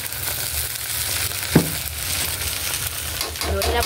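Corned beef and potatoes sizzle loudly in a pan as they are stirred, a dense continuous frying hiss with one brief scrape partway through.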